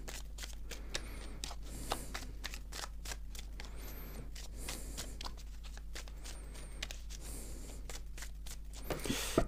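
A deck of tarot cards is being cut, producing a run of crisp, close card snaps, flicks and papery rustles in an uneven rhythm, with soft handling noise between them.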